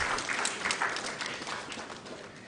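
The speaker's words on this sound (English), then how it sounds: "Shall we please give him another round of applause?" Applause from an audience at a formal mediation ceremony on the Bawku conflict in Ghana, a steady round of clapping that gradually fades over a few seconds.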